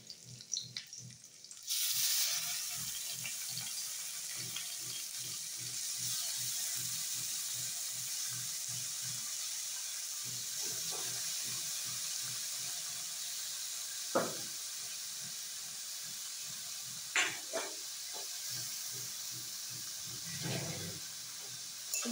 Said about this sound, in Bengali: দিয়ে এবার এর মধ্যে আমি কুমড়োটা যে গ্রেট করে রেখেছি সেটা আমি দিয়ে দেবো।